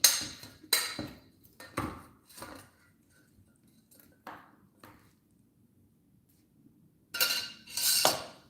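Chicken wings tossed with a spoon in a too-small bowl or pot, giving bursts of clinking and scraping metal-on-dish sounds separated by quiet pauses, with louder clattering near the end.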